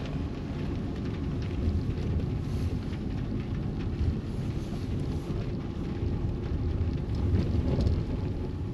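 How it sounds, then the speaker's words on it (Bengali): A waterfall fed by melting snow in the mountains of East Sikkim roars as a steady, dense, continuous rush of water, loud and unbroken throughout. "এটা পুরোই বরফ গলা জলে পুষ্ট ঝর্ণা।"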